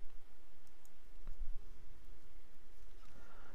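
A computer mouse clicks an edit link, giving a faint, brief tick over a steady hissy background, with no voices.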